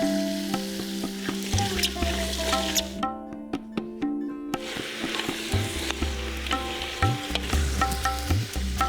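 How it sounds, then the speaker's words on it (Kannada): Mustard seeds and curry leaves spluttering in hot oil at the start of cooking vangi bath, a loud, busy crackling sizzle that thins out briefly midway and then returns. No voices. "ಎಣ್ಣೆ ಹಾಕಿ ಬಳ್ತಾ ಇದ್ದೇನೆ, ಸಾಸಿವೆ ಹಾಕಿ ಬಳ್ತಾ ಇದ್ದೇನೆ ಶುರುವಿಗೆ."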